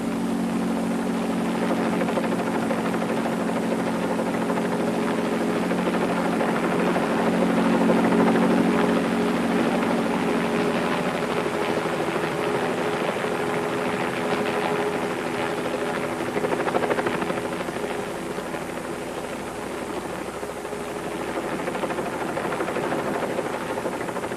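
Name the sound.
helicopter flying during car stunt filming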